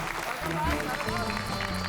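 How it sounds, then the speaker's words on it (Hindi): Applause greets award winners being called up to receive trophies at a comedy-show award ceremony; dense, steady clapping fills the moment with voices mixed in. "तालियां भाई, तालियां।"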